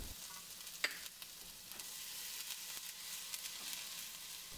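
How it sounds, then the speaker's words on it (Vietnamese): Minced garlic frying in hot oil in a pan, a faint steady sizzle with a few small pops and stirring clicks, quiet and close. "Cho vào 1 muỗng canh tỏi băm nhuyễn phi cho thơm."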